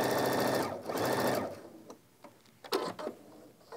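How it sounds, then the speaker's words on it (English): Sewing machine stitching bias tape onto fabric, a loud, steady mechanical whir that runs for over a second, pauses, resumes, then stops and gives way to quieter handling clicks. "And I'll just sew a little bit just to show you."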